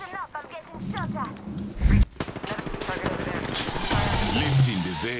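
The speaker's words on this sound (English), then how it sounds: "I'm getting shot at" Bursts of gunfire in the Apex Legends battle royale game, rapid automatic shots crackling close by under a voice talking throughout.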